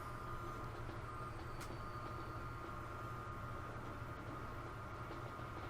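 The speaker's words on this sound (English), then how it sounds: "I need this trans-Pennine train to move" A trans-Pennine train rolling along in the Transport Fever 2 video game gives a steady, continuous low rumble with a faint hiss, held at an even level throughout and heard alone with no talk.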